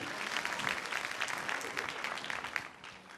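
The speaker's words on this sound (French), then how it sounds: "Je vais vous demander de l'applaudir très fort" A crowd at a televised dance talent competition applauds a dancer, a dense stream of clapping with a few louder claps standing out, moderately loud and sustained, with some voices faintly mixed in.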